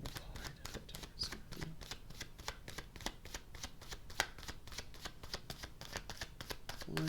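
A deck of tarot cards is shuffled over and over in a steady, fast riffling rhythm. The sound is close, fills the whole stretch and has no voice over it.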